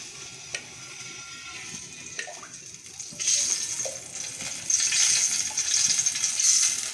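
Cooking oil, about four spoonfuls, goes into a pan to start an old-style fish curry. A few light clinks come first, then a wet hiss and sizzle builds as the oil spreads and heats, steady and close, with no voices.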